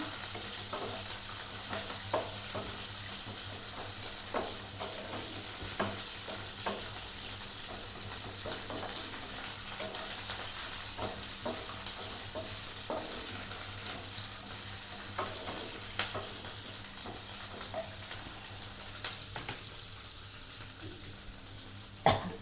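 Curry leaves frying in a pan for South Indian vegetable sambar, a steady soft sizzle with scattered stirring scrapes and clicks throughout, no talking.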